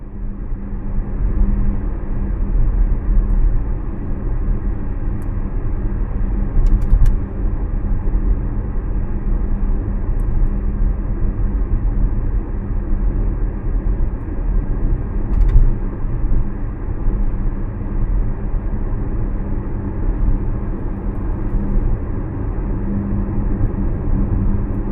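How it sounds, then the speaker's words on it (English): Cabin sound inside a Toyota bZ4X AWD electric car driving in summer, a steady, even road rumble and low hum with no talk throughout. "please listen to this car because it will be clean, no comments, pure audio from the car"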